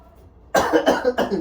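Three harsh coughs in quick succession after a brief quiet moment, loud and close.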